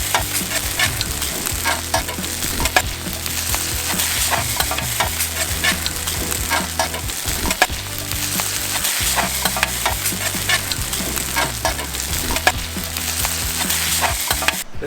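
Breakfast with several ingredients frying on a 17-inch Blackstone griddle for off-grid cooking, a steady, close sizzle with scraping and stirring throughout, over a low musical backing and no talk.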